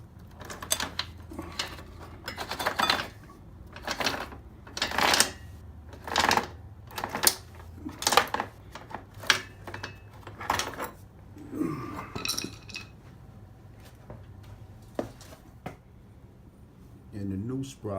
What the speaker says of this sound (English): Then your chain should just come right off.